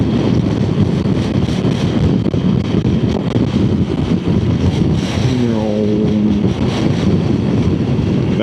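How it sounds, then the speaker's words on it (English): Strong outdoor wind buffets the microphone in a steady, loud roar for the whole stretch, with no clear talk over it. "That's like properly windy today."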